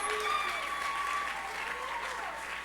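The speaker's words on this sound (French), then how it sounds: "Applaudissez pour le Saint-Esprit." A church congregation claps steadily together during a sermon, a warm continuous wash of applause with faint sustained tones and a voice murmuring underneath.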